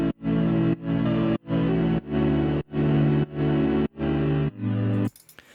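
Crushed, ring-modulated synth chords with the lows filtered out, heavily distorted and buzzy, play as eight loud sustained stabs in a steady rhythm before cutting to a brief noisy tail.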